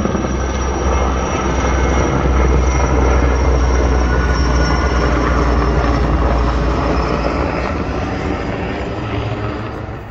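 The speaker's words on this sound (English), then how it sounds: "Lots of aircraft today." Aircraft fly over the Waterman Fire in the Six Rivers Lightning Complex wildfire area, a loud, sustained roar that fills the scene and slowly fades, with no talking.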